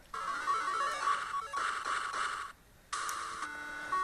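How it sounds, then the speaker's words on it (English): A repeating electronic phone ring from a bootleg Game Boy Color Pokemon Diamond game sounds in loud chiptune bursts, two long rings with a short gap, then a third, with no talking. "this game revolves around the use of phones, mainly on how you can hear one ringing and it's really annoying"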